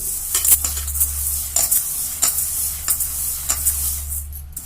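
Dry rice, chana dal, toor dal, urad dal and fenugreek seeds for onion dosa batter being stirred together in a pot, giving a close, continuous gritty rustle with scattered light scraping clicks, with a low hum running underneath.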